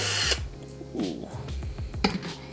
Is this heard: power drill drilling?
yes